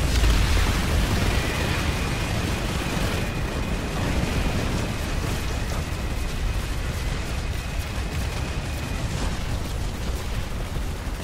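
A C4 charge detonating in a shooter video game, a heavy rumbling blast that keeps roaring and crackling for several seconds, loud and close, with no speech over it.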